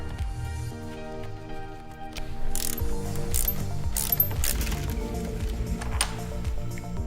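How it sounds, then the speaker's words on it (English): A ratchet fitted with a T50 bit loosens the roof bolts on a 2026 Jeep Wrangler. Rapid mechanical clicking comes in close, uneven bursts over a low steady background. "the last 2 bolts that we have to remove use the same ratchet and T50 that we used to remove the other 6 bolts"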